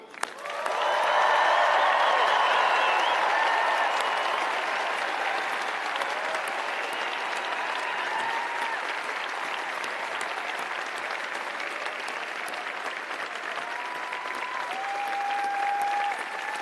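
A graduation ceremony audience applauding and cheering, dense sustained clapping that swells early and holds steady, with scattered whoops and voices mixed in.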